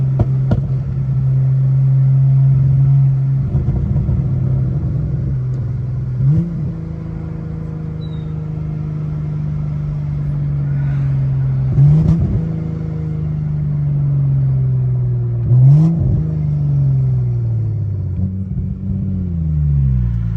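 A turbocharged BMW F10 with a big turbo revs on a street at night, a loud, close engine drone that climbs repeatedly in pitch and then drops back, with brief whooshes and flutters between each pull.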